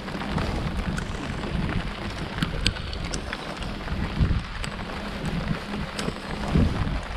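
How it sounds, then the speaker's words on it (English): Steady rain pours down with a dense, even hiss and a low rumble underneath, with no voices. "Here comes the rain."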